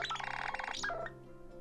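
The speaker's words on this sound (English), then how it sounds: "I think I'll go with scribble. Set ringtone." A ringtone preview plays on a Nothing Phone (1): a quick, bright sequence of short electronic notes in a bouncy pattern, followed by a couple of sliding tones and a soft fade, close and fairly quiet.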